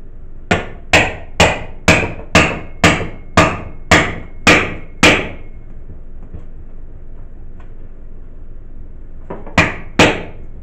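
A hammer strikes a chisel to pry a tire bead off its rim: nine sharp, evenly spaced metallic blows, loud and close, then a quiet pause and two more hits near the end.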